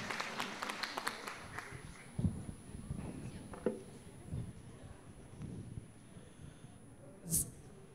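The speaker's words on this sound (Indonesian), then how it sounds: "Beri tepuk tangan yang meriah untuk Mbak Serliana Fitang." Applause from an audience at a student event, brief and fairly light clapping in the first two seconds that quickly dies away into quiet hall noise with a few stray sounds.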